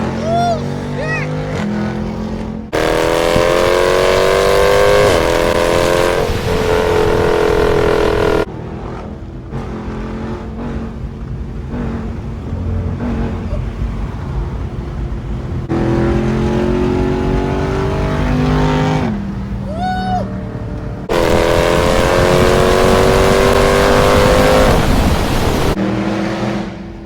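A loud SRT Jeep engine revs hard while driving, surging in long bursts of heavy acceleration with deep roaring harmonics, dropping back between pulls; someone talks at points over the engine.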